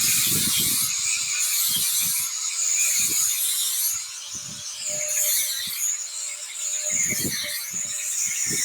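An angle grinder under light pressure blends a weld along a metal design project, a steady high whine with rhythmic scraping passes from end to end, close and loud, no talking.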